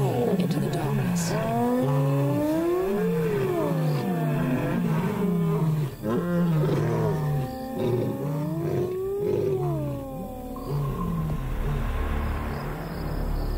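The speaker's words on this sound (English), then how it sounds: "Night after night, the hyenas and the cats roar into the darkness." Lions and hyenas roaring into the darkness on clan territory, a loud continuous chorus of rising and falling calls and deep grunting roars, close and layered over a low rumble at night.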